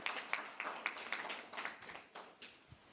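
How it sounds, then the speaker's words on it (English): Sparse applause from an audience at the close of a two-day program: a thin, uneven patter of claps with distinct individual hits, fairly faint and tapering off. "Give yourselves a round of applause for showing up and showing out"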